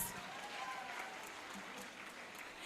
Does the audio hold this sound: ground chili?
no